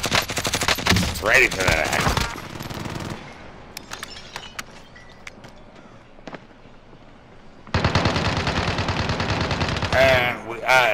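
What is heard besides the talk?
sentry gun firing in a video game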